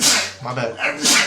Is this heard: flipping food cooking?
no